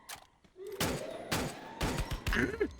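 Several sharp, booming blasts in Free Fire, one a grenade explosion, sound in quick succession, with a voice faintly underneath.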